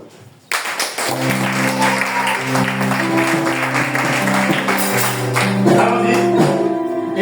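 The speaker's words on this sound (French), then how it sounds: "Je veux qu'on acclame." A church congregation bursts into loud sustained applause and cheering after a sermon on obedience, with sustained music chords rising underneath and continuing until the end.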